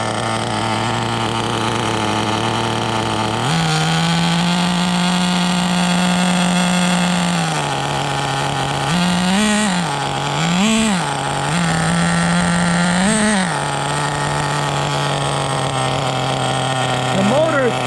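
A used CEN nitro RC car with an OS 18 CV engine idles steadily and loudly up close, its buzzing drone stepping up in pitch partway, with a few brief blips of throttle.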